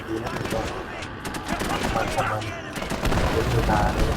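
Dense, loud gunfire rattles through a WWII real-time strategy battle in the mobile game WarAlert, with continuous machine-gun volleys and overlapping shots while players talk excitedly over the din.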